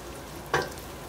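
Kimchi fried rice frying in plenty of oil in a pan, a steady low sizzle with one brief louder crackle and stir burst near the middle, heard alone.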